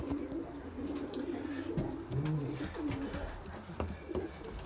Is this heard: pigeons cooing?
yes